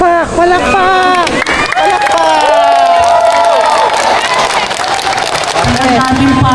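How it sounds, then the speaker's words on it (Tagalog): A loud crowd cheers, whoops and claps at a Bantay Bayan oath-taking ceremony, with excited shouting voices rising over a dense bed of applause throughout. "Palakpak"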